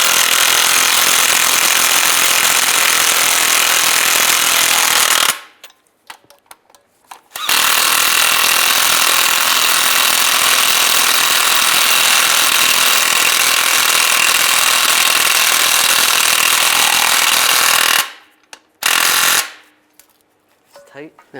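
A power tool drives bolts on a transmission mount of a 2007–2013 Chevrolet Silverado, producing a loud, harsh, continuous buzzing run close by, then a sudden stop, a second long run and a final short burst.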